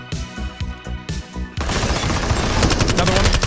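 Gunfire from Super People: a rhythmic series of distinct shots at first, then dense rapid automatic fire rattling continuously and loudly to the end.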